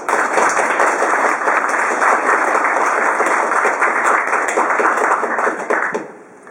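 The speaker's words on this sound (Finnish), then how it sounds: "Annetaan aplodit näille." Sustained applause from a large crowd at a charity donation ceremony, dense and steady clapping at full volume that fades out near the end.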